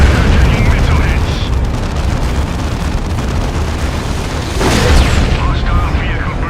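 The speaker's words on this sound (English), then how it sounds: "Predator taking missile hits." Heavy booms and gunfire-like blasts as missiles strike a Predator tank in the Dawn of War 2: Chaos Rising game, loud and rumbling with a sharper burst near the end, under game voice chatter.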